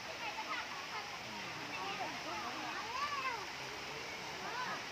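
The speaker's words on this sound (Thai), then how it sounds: "แล้วเราก็เดินมาที่ตรงน้ำตกนะคะ" Water pours steadily at Sai Yok Noi waterfall in Kanchanaburi, a continuous close rushing and splashing, with children's voices and chatter mixed in over the falling water.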